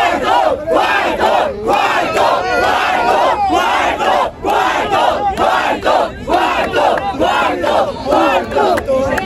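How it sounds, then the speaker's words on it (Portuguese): Crowd at a rap battle semifinal roaring and cheering loudly, dense shouts and whoops sustained throughout with no clear talk over it. "Eu quero ouvir muito barulho."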